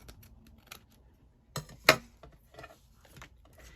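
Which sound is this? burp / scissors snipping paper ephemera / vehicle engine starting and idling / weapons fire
scissors snipping paper ephemera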